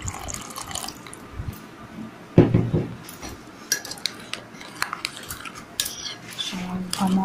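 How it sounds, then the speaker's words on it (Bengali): A spoon mixes spices in a bowl for steamed hilsa, with a little water, giving close metallic clinks and wet scrapes in irregular bursts and one louder clatter partway through. No one speaks. "আর সমস্ত মশলাগুলো আমি ভালো করে মিশিয়ে নেব।"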